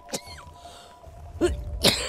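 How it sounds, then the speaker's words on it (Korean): A few short, harsh coughs sound during an exploration of an abandoned haunted house, three separate bursts spaced apart over a low, quiet background. "기침 계속 나오니까 막 기침해"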